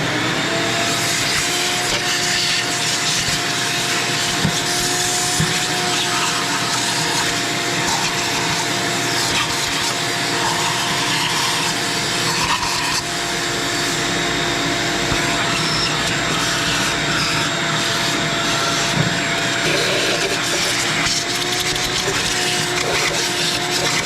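Vacuum pump or cleaner drones steadily and loudly for the whole stretch while a BB dart head is given a vacuum test after repair, with a constant whine and faint clicks and knocks on top.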